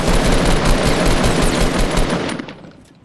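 Rapid automatic gunfire in the Fortnite Battle Royale video game, a dense, loud stream of shots that continues steadily for over two seconds before tapering off into a fading tail.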